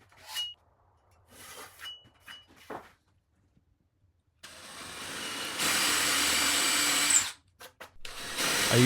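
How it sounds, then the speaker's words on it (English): A palm router with a 1/4 inch upcut spiral bit cutting into the underside of an ash tabletop, starting after a few quiet knocks and then whining in a loud, steady high-pitched run before cutting off. "I used a palm router with a 1/4 inch upcut spiral bit to recess the C-channel into the underside of the tabletop"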